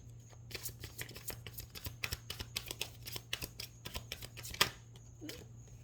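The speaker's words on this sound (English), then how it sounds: "we have cards just flying out right now" Tarot cards shuffle in a quick, rhythmic run of crisp riffling clicks, close and quiet, with one sharper snap near the end.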